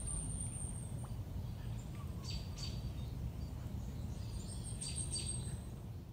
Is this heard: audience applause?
no